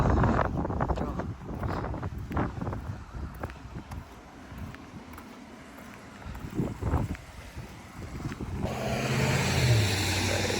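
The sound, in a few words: strong wind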